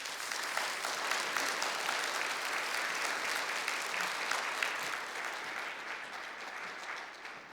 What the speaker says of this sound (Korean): 에두알도 목사님 나오실 때 큰 박수로 한번 환영하겠습니다.